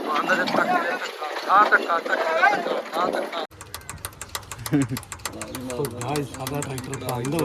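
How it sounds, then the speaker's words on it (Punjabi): Voices and background noise give way to a diesel tractor engine that fires up abruptly and settles into a steady, rhythmic chugging idle close by, during wheat harvest. "ਟਰੈਕਟਰ ਫਾਈਨਲੀ ਸਟਾਰਟ ਹੋ ਗਿਆ ਸੀ"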